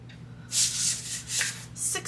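Cardstock paper being scored for a craft project, a few short scraping strokes, close and fairly quiet, under a low steady hum.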